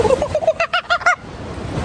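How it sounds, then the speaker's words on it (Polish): A monkey calls in the Dominican jungle: a quick run of about seven short, tonal hooting calls, close and clear, the last few coming in a tight burst before quiet background. "To nie ja, to naprawdę była małpa."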